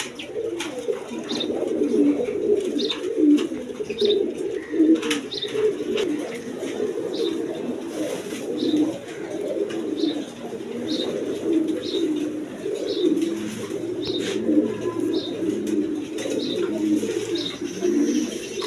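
Caged pigeons coo steadily and densely, many birds overlapping in a continuous low, throaty murmur close by, with faint chirps scattered through it and no talk.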